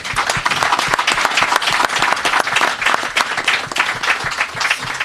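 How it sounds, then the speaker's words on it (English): Loud, dense round of applause from a gathered crowd at a press conference welcoming the Proteas national team, steady clapping throughout with no voices. "you deserve a round of applause"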